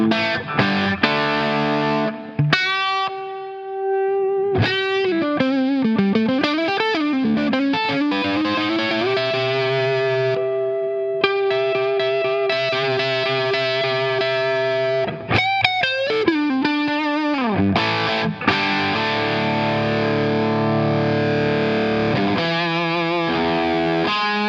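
A Gibson Les Paul R9 electric guitar played through a Klon-style boost pedal gives a loud, driven, overdriven tone with sustained bent notes, chords and lead phrases, alone and without talking.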